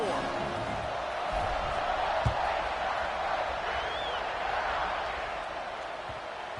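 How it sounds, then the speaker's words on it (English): A stadium crowd buzzes with a broad, steady roar in an NCAA college football video game after a pick-six score, with a faint thud partway through. "this crowd is buzzing after that last score"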